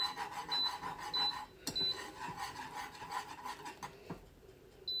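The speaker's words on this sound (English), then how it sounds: "any kind of cheese sauce, it's best if you grate it yourself." Cheese grated by hand for an Alfredo sauce, a close, continuous rasping scrape in repeated strokes with brief pauses and no speech.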